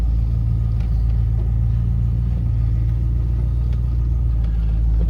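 Ford XD Falcon V8 engine running at fast idle with a choke issue, a loud steady low throbbing rumble heard up close, unchanging throughout with no talk.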